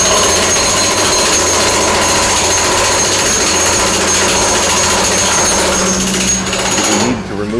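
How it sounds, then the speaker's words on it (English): A jackhammer breaks apart cement baffles in an enclosed underground space, a loud, rapid, unrelenting mechanical hammering that goes on for several seconds before briefly easing near the end. "So I said, I'll take the jackhammer down there."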